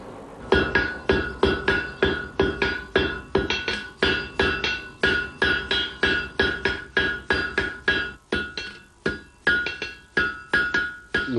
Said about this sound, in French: Quand le geste est beau, le marteau monte haut, il rebondit bien.